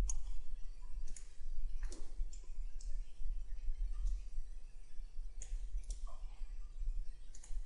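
Computer mouse clicks sound during CAD modeling work in Autodesk Inventor: sparse, sharp, close clicks spaced a second or so apart over a low steady hum, with no voice.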